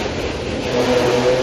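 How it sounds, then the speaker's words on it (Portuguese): A motorcycle passes by on a road, its mid-pitched engine revving and rising in loudness toward the end of a short, close pass. "Sempre tem que passar uma moto descontrolada para atrapalhar, né?"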